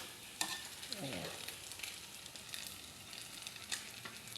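Small battered fish frying in hot oil, a steady soft sizzle with faint crackles and occasional sharper pops, moderately quiet and with no voices.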